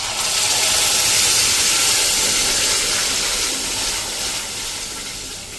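Sambhar paste tipped into a hot spice tempering sets off a loud, close hissing sizzle that swells at first and then slowly eases off, with no talking over it.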